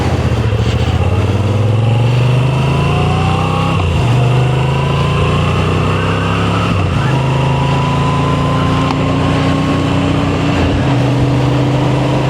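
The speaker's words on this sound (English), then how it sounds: "The transverse engine on this Moto Guzzi, the transverse V-twin, it has, absolute tons of character." A Moto Guzzi V7 Stone transverse V-twin motorcycle engine runs loudly and close by, its throbbing note rising and falling through several shifts as it rides along.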